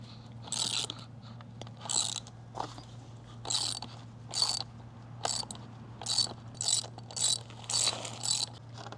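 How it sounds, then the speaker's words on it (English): A ratchet fitted with a 19mm socket backs off a nut on an air suspension strut, sounding as repeated bursts of rapid, close clicking separated by short pauses, over a steady low hum. "next up, we're removing this nut with a 19mm socket."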